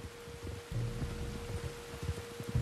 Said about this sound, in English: You were right about the damn rain.